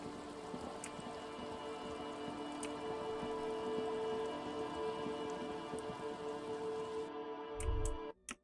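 Steady rain pours down in the game Disco Elysium, a dense, even patter that fills the whole scene and cuts off abruptly at the end.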